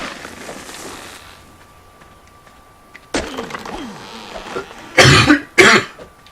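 Several harsh bursts of coughing, close and loud, with the last two strongest, after a quieter stretch of low background noise.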